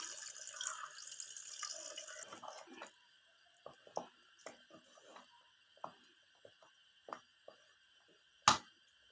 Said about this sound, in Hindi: इसमें पानी डाल के हम दोबारा इस तरह डालेंगे।